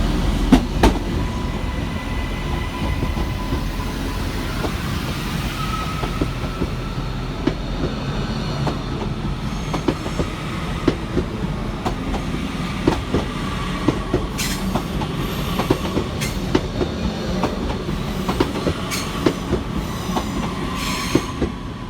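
A Northern train departs Manchester Piccadilly station at rush hour, its wheels rumbling and clicking over the rails in a steady loud roll, with faint squeals and rattles of the wagons throughout.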